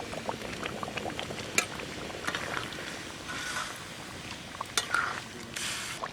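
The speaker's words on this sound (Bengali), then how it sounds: "এবার ফুলকপিটা দিয়ে দেবো।" Cauliflower tipped into a hot cooking pot outdoors, a bubbling, sizzling wash of liquid with a few sharp splashy knocks as the pieces land.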